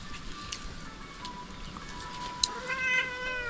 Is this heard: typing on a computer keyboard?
no